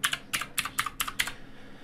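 Password being typed on a computer keyboard, six quick clusters of clacking keystrokes in an even rhythm, close and clear with no voices.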